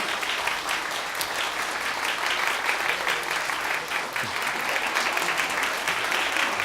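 A church congregation claps steadily, a dense even patter of applause at moderate distance without cheering.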